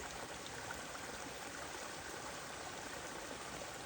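A stream runs near an Appalachian Trail campsite in the Tennessee mountains, giving a soft, continuous burble and hiss of moving water at a constant low level with no voices.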